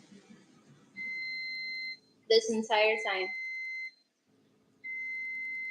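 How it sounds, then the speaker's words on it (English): An air fryer that has just finished cooking salmon gives evenly spaced electronic beeps, a steady tone that sounds twice, interrupted by a brief stretch of speech between them. "The air fryer has finished my second piece of salmon in 3 hours."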